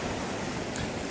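Ocean waves roll in from a distance along a sunny shoreline, a dense, steady wash of surf noise with no talking.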